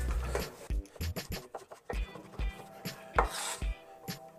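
A knife slices ginger very thinly on a cutting board, a close series of about a dozen crisp, slightly uneven strokes with short pauses between, no voices over it.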